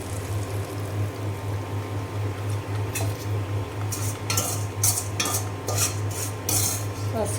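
Fried onions are stirred into cooked mung dal with tomato in a kitchen pot, soft utensil clinks and scrapes against the metal over a low steady hum, the clatter growing busier toward the end, no voices.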